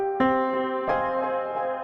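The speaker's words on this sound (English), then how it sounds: "that pitch warbling built into the delay saves me so much time, man." Soft felt piano run through a delay effect with pitch wobble, a few sustained chords with gentle repeating echoes that warble slightly in pitch, clear and alone without talk.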